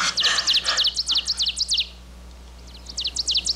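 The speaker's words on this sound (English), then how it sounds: "A yellow-rumped warbler." Yellow-rumped warbler singing a fast series of thin, sweet chirped notes in two bursts separated by a short pause, fairly close and clear over a low steady hum.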